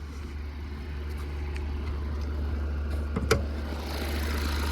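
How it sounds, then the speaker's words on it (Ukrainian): Steady low rumble of a Volvo V60 2.0 D4 diesel engine idling close by, with a brief click partway through. "Двигунчик працює просто ідеально."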